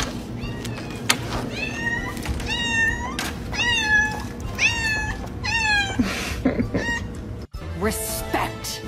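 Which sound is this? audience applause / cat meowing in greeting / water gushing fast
cat meowing in greeting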